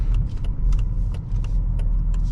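A 2001 Mercedes-Benz S55 AMG cruising smoothly, with a low steady engine and road rumble heard from inside the cabin, broken by a few light clicks and rattles.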